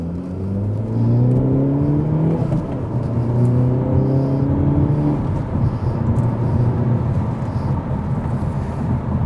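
A 2024 Hyundai Elantra N engine revs up and drops back repeatedly as it shifts smoothly through gears, rising whines sweeping upward over a steady close rumble.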